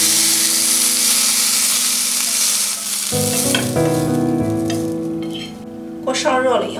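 Scallion and garlic frying in hot oil in a wok, a loud close hiss that softens midway while a metallic ringing tone enters, followed by sharp scraping clatter near the end.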